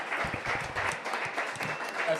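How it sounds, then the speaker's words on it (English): Studio audience applause for a talk show guest, Mr. Fisher, steady and fairly close, with a voice speaking over part of it. "Let's give a round of applause for Mr."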